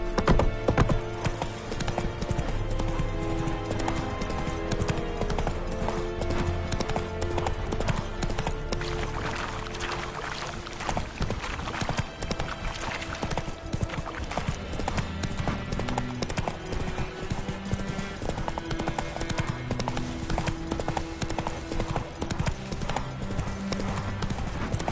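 Geralt's horse Roach trots in The Witcher 3, its hooves sounding a steady, close clip-clop throughout with a brief whinny, set against continuous game music.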